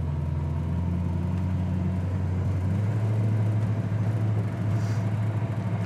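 A 1965 Ford Mustang coupe's engine idles while warming up on a cold day, a steady low rumble that holds even and close with no talking.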